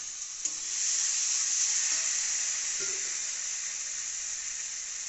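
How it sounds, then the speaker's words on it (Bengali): Boiled lentils poured into a hot pan with spices for a Bengali fish-head dal, setting off a sudden strong hiss and sizzle that holds steadily, with a couple of faint knocks early on. "এবারে দেখছেন সেদ্ধ করা ডালটা খরার মধ্যে দিয়ে দেওয়া হচ্ছে"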